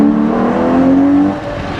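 A 715 hp Ferrari Purosangue V12 revving hard at high rpm, its exhaust giving a loud, close, sustained tonal wail that climbs in pitch, then eases off with no talk over it.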